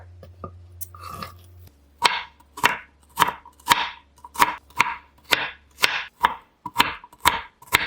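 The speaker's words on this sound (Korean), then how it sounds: "오이를 손질할게요. 반으로 자른 다음 다시 반으로 자르세요." A knife chops through a cucumber on a cutting board, cutting it in halves and halves again, giving a run of about a dozen crisp, evenly spaced thuds after a brief quieter start, close and alone.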